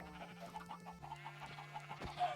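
Chickens clucking on a Minecraft chicken farm, a series of short soft rhythmic clucks over a low steady game hum, fairly faint and close.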